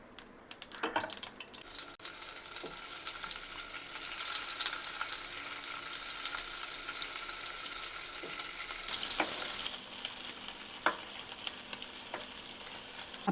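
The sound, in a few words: paneer frying in oil, turned on both sides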